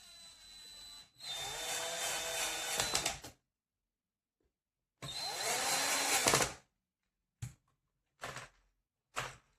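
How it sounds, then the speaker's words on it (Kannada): Screws are driven into an RC tractor wheel during assembly in two longer whirring bursts of about two seconds each, then three short quick bursts separated by silence, all close and clear. "ಇನ್ನು 2 ಸ್ಕ್ರೂ ಹಾಕಿದ್ರೆ ಇದು ವೀಲ್ ಸದ್ಯಕ್ಕೆ ಮುಗಿಯುತ್ತೆ."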